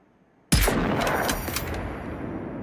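A single sharp hunting rifle shot in the video game Generation Zero cracks out of silence, loud and close, then rolls into a long echoing tail that fades slowly.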